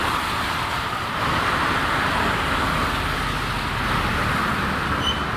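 A Honda Beat scooter passes in heavy rain on a wet road, its engine and tyre hiss blending into a steady, loud wash of rain and traffic noise with no clear separate pass-by peak.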